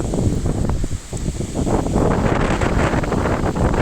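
Strong storm wind gusts buffet the microphone in a loud, continuous roar with surging rushes and rustling of palm fronds.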